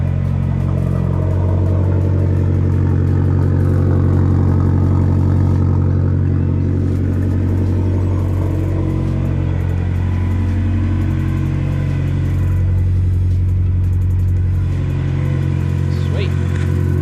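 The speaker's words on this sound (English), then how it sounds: "Noisy release bearing." Car engine idling with a noisy clutch release bearing, a steady loud low rumble with a faint whirring note on top, continuous and close throughout.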